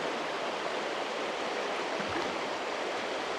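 A swollen river in rural Wales rushes steadily nearby, a broad, unbroken wash of flowing water with no pauses throughout.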